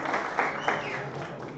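Brief burst of audience applause at a React developer tech meetup, a crowd clapping steadily at moderate volume for under two seconds with no voices on top.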